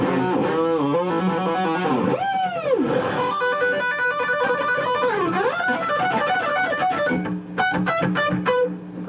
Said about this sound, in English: I also have a boost, which has got a designated boost knob.